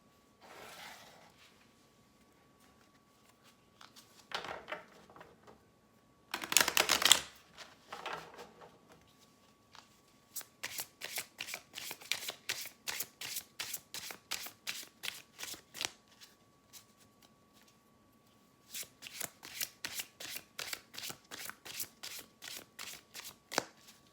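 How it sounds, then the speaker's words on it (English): Tarot and oracle decks, including Golden Tarot, Rider-Waite and Mystifying Oracle, are shuffled up close: a few soft riffles and a sharp burst, then long runs of quick, rhythmic card snaps separated by brief pauses. "I'll shuffle and pull 4 cards from each deck to form 4 different piles."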